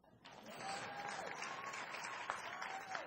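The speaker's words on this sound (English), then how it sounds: "Clap for that." Awards-show audience applauding at the 2007 NATAS Northwest Emmy ceremony, a steady, dense wash of many hands clapping, fairly distant and moderate in level, lasting the whole moment without talk.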